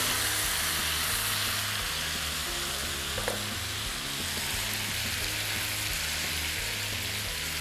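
Chicken pieces for Indian-style grilled BBQ chicken frying in a pan over a high flame, giving a steady, dense sizzle that runs unbroken from start to finish with no voices.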